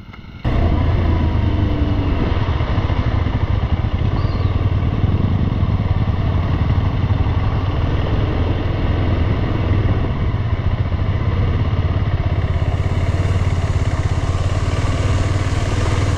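A heavily loaded motorcycle engine runs steadily and loud throughout, a constant low rumble with mechanical clatter, ridden through mud.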